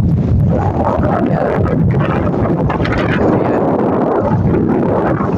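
Strong wind buffets the microphone in a loud, continuous roaring rumble that stays dense and unbroken throughout.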